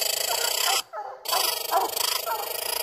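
Coon hounds bay and bark steadily from trees where a raccoon is treed during a night coon hunt, loud and continuous with a brief pause near the middle.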